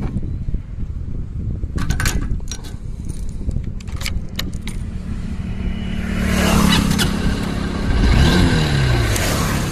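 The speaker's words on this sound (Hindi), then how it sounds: "तो आपने देखा दोस्तों, ये बाइक स्टार्ट हो चुका है" A Honda Unicorn motorcycle is readied with sharp jangles of keys nearby, then its engine cranks and catches at about six seconds, settling into a steady, close idle with a brief rising rev.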